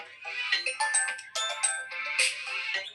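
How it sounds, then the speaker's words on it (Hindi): A mobile phone rings with an incoming call, a bright electronic ringtone melody repeating in short phrases, close and fairly loud with no talking over it. "फोन आ रहा है अभी"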